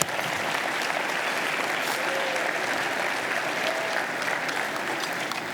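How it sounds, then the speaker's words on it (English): Applause from an awards-event audience at a sustainability summit, a dense, steady wash of many hands clapping that holds evenly for several seconds with no voices over it. "Let's give them a huge round of applause."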